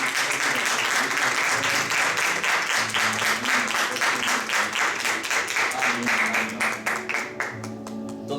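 Sustained audience applause at a church prayer fellowship gathering, dense steady clapping that fills the room for several seconds, with faint talk and some music tones underneath before it tapers toward the end.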